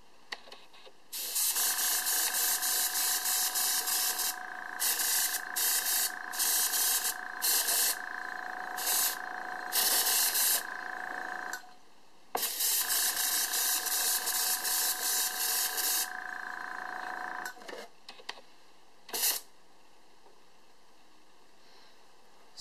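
An airbrush sprays paint onto Xbox 360 controller buttons in bursts: loud, close, steady hissing blasts, some long and some short, with brief gaps of quiet between them.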